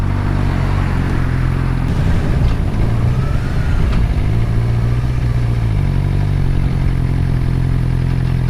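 A Suzuki GSX-R 600 motorcycle with a Yoshimura exhaust, heard onboard at full throttle, drones loudly and steadily throughout with a low engine rumble and rising and falling pitch as it accelerates.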